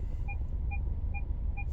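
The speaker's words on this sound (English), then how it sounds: "Now, if I didn't like this, the beeping, I just press and hold" A 2023 Subaru Outback parking sensor sounds four evenly spaced, short electronic beeps over a steady low rumble of the car's interior.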